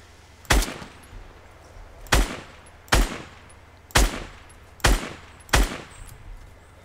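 Six loud single gunshots from the Fortnite video game, spaced roughly a second apart with short decaying tails, heard alone without talk.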